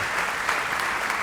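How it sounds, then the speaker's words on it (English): Steady, full applause fills a school welcome assembly led by the headmaster and head monitors, a broad continuous clatter of many hands with no break. "Applause for those guys."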